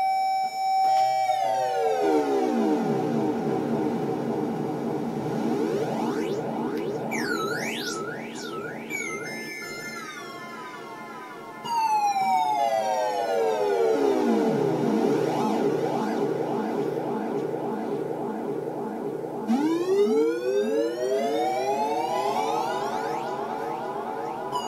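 A circuit-bent three-tone chime doorbell run through an echo effect, its pitched tones warping and sweeping up and down in repeating swoops and siren-like glides with long echoing tails, loud and continuous, with no talking.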